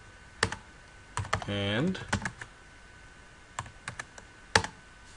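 Sharp, irregular keystrokes on a computer keyboard entering a chmod command in a Bash shell, clustered in short bursts across the clip, with a brief spoken word in between.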